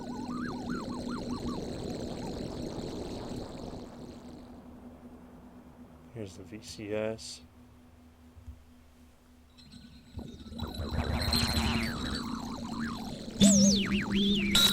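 A granular synthesis patch in Kyma gives off quiet, shifting synthetic tones: a faint hum, then a short warbling burst and a swelling cloud of grainy texture. A voice speaks briefly at the start.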